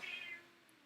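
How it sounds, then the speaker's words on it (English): A house cat meows once to be let outside, a short, fairly quiet indoor call that fades into room quiet. "Oh, my cat wants to go outside."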